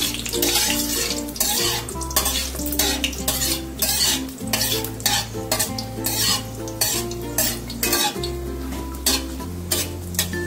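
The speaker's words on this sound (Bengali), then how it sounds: "4টে আছে এলাচ, কয়েকটা লবঙ্গ আর 1 টুকরো দারচিনি। ভেজে নেব যাতে সুন্দর একটা গন্ধ বেরায়।" Four cardamom pods, a few cloves and a piece of cinnamon fry in hot oil, sizzling briskly while a utensil stirs and scrapes against the pan, with music playing underneath.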